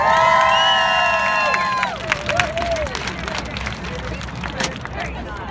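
A crowd of nurses cheers and shouts with high, loud voices, then breaks into scattered clapping and lively chatter that stays close and busy.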